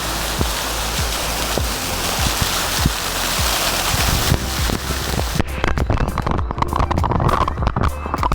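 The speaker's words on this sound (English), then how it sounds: "The water's falling from so high, it actually kind of hurts when it hits you." Waterfall in a Bali jungle pouring from a great height onto a swimmer below, a loud, constant roaring rush of water with splashing and slapping impacts that grow choppier and more irregular toward the end.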